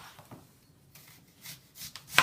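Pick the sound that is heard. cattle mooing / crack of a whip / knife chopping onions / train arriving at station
knife chopping onions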